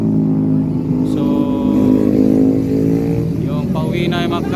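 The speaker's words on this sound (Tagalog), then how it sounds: "Pauwi na yung mga motor." A group of motorcycles, including big bikes, ride off from a resort in Batangas, their engines droning and revving close by as someone talks over the noise.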